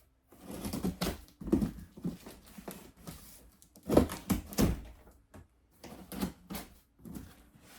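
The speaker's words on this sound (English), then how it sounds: "let me get the other box. All right, here we go, box 2. I'm going to cut it open" A cardboard box being cut open, with scratchy slicing and tearing strokes in uneven bursts, close and moderately loud, and brief pauses between the cuts.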